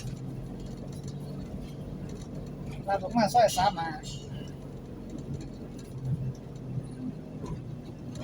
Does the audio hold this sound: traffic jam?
yes